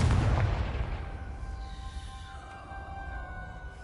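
A Confringo fire spell in the Hogwarts Legacy video game lands with a loud booming blast right at the start, then rumbles and fades under sustained tonal game sounds.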